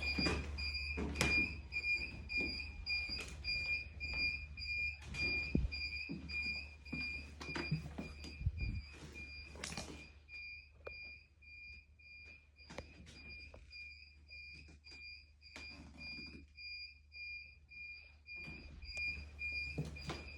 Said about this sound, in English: The alarm is still going off.